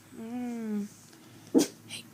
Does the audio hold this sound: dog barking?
yes